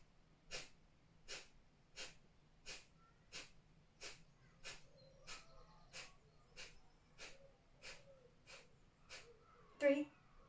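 Rapid, forceful nasal exhales of Breath of Fire yoga breathing repeat in an even rhythm, about fourteen sharp puffs spaced under a second apart, close and clear, ending with a louder breath.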